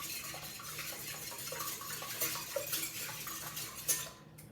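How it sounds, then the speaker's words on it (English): Two large eggs whisked in a bowl for chocolate chip pan cookie dough, a steady run of light metal-on-bowl clinks and scrapes, close and fairly quiet, with no talking. "We're going to whisk the eggs just a little bit."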